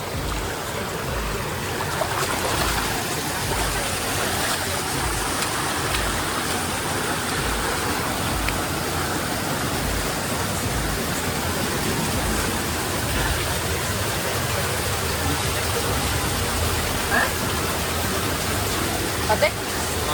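A cold stream rushes in a steady, loud, broadband flow with no break, and voices are faintly present underneath.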